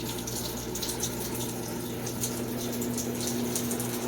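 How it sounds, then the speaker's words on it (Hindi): Water gushes steadily out of a washing machine's drain pump, with a constant rushing flow and a low pump hum throughout. "लो जी, और पानी निकलने लगता है, चेक करो।"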